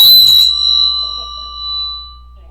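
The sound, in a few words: bell being rung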